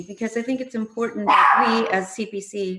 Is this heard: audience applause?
no